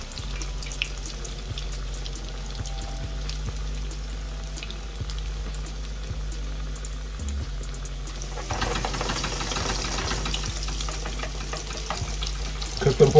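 Salmon croquettes frying in a pan, a steady soft sizzle under a low hum, growing brighter and louder toward the end, with no speech over it.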